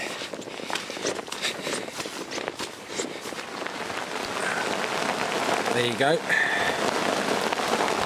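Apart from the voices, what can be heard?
heavy rain falling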